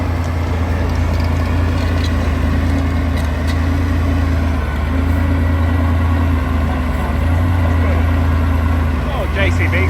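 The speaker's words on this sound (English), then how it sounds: "Oh, JCB sound nice." A JCB excavator's diesel engine runs steadily at a steam rally, a loud, deep, constant drone with a low hum and faint metallic clanks on top.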